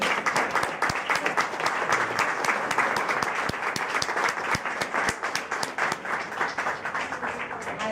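Steady, dense applause fills a book presentation for Talentura publishing at Botavara, Benicàssim, with sharp individual claps standing out from the crowd throughout.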